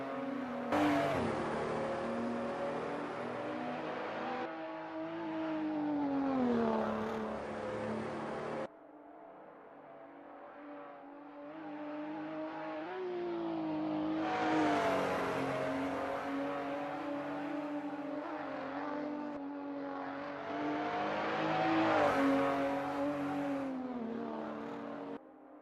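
Race car engines at the Nordschleife circuit drone steadily at high revs, swelling and fading through gear changes and passes, with a continuous layered motorsport roar at moderate distance and no voices.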